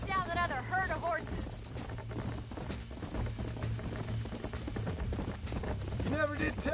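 Galloping horses in the Western video game Red Dead Redemption drum a fast, continuous hoofbeat under a wash of music and ambience, with voices speaking over the start and end.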